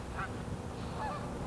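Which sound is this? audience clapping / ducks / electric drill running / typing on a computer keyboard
ducks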